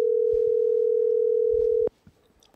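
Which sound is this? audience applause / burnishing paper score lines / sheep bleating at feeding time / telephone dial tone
telephone dial tone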